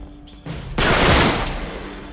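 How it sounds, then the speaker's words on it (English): A sawed-off shotgun goes off in Uncharted 3: a single loud, close blast that erupts suddenly and decays through a broad, rumbling tail. "Sawed off shotgun."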